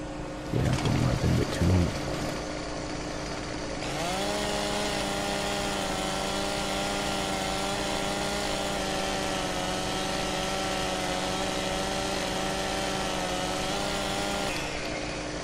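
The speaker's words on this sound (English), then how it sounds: "Standard in game wood chipper." A wood chipper in the video game Farming Simulator 17 starts after a few clunks, then runs with a steady, loud mechanical drone and whine that holds for about ten seconds before dropping off.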